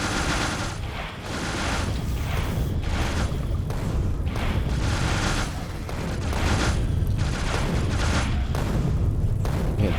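Rockets firing at biters in Factorio, a steady barrage of repeated launches and booming impacts with rapid rattling fire layered in, loud and continuous from start to finish.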